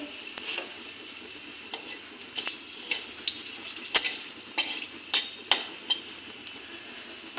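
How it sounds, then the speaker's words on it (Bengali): Whole cloves, cardamom, cinnamon and black peppercorns fry in hot oil in a kadai, giving a steady close sizzle broken by repeated sharp crackles and light spoon clinks, with no talking. "তেলটা তো গরমই আছে লং এলাচি দারচিনি গুলমরিচ ওটা দিয়ে দেবো"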